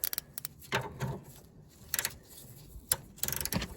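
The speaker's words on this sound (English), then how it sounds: "So try and get a ratchet on it." A ratchet works on the track rod of a 2013 Fiat Panda, sounding as quick clusters of small metallic clicks in irregular bursts with short pauses between, close and fairly quiet.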